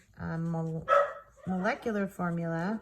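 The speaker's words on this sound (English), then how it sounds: "sorry about my dogs" Dogs bark and yip nearby in a few short bursts, heard under someone talking.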